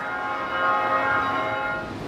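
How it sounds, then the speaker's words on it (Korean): The church bell of Daeheung-dong Cathedral in Daejeon rings out over a city street as a steady, sustained metallic hum with a gentle swell, heard from a moderate distance with no voices. "종소리가 들려요."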